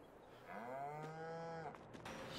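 Cows low in Farming Simulator 22: one long, loud, drawn-out moo with a clear falling pitch stands alone, with no talk over it.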